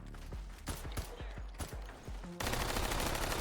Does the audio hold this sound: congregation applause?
no